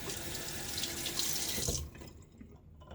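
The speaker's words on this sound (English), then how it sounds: "Let's add just a little bit more water." Tap water runs steadily into a sink for mixing shaving lather, a loud rushing splash that cuts off near the end and leaves quiet drips and faint handling sounds.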